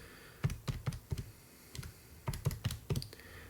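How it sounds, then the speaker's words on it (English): Fingers type on a computer keyboard in two quick bursts of sharp, close clicks separated by a short pause, with no voices. "Typing that in"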